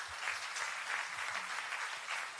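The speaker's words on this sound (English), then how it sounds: "let us give a thundering applause to Comrade Justice, please" Brief, steady applause from the audience at a women's convention in Ernakulam, a moderately loud, even wash of clapping throughout with no speech over it.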